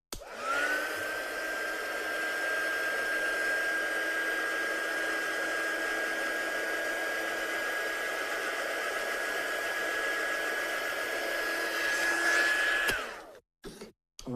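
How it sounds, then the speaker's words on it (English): Heat gun blowing hot air to dry a watercolour handmade card, a steady loud whirring hiss with a faint whine that holds for about thirteen seconds and then cuts off abruptly, followed by brief clunks. "I was going to give that a quick blast with a heat gun just to dry it off."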